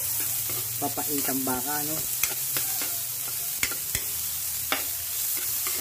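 Onion, garlic and ginger sautéing together in a pan for beef papaitan, a steady sizzle with scraping stirs, partly under a speaking voice near the start.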